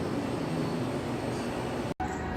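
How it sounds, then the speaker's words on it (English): A steady, broad roar of an airplane passing overhead, moderately distant and continuous, with a brief dropout near the end. "Hearing an airplane going overhead"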